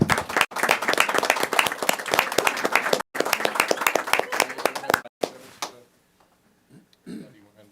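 Clapping breaks out at a city council meeting, dense and lively for about five seconds with short gaps, then it stops and a voice speaks quietly in a near-silent room.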